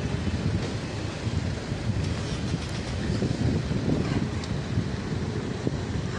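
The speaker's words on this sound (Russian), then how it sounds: "ветер просто просто восхитителен" Steady wind rushes and buffets the microphone throughout, a constant roaring noise with a faint rhythmic rattle underneath.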